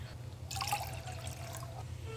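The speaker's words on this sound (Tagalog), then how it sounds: "So, 2 basong tubig." Two glasses of water are poured into a pan while making a sweet soy sauce for veggie balls: a steady splashing pour that begins about halfway in and runs to the end, with no talking.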